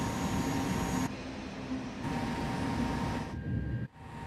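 Long high-speed train rolling in Train Sim World 2 on the LGV Méditerranée line between Marseille and Avignon, a steady loud rumble of wheels and traction with brief shifts in tone, no talk.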